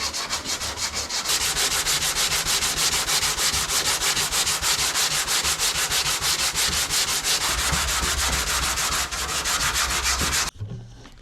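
Continuous rhythmic sanding on a 7th-generation Honda Civic body panel, a coarse scratchy rasp repeating in quick even strokes, close and loud, stopping abruptly at the end.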